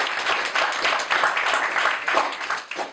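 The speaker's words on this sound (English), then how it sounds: "Give them a round of applause" A room of listeners applauds speakers after a house debate, a short burst of fairly close, dense clapping that swells and dips over a few seconds.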